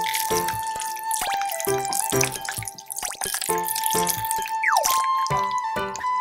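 Water is poured over foam bubbles covering a Precure toy figure, giving repeated splashy drips and trickles in a steady rhythm, close and fairly loud.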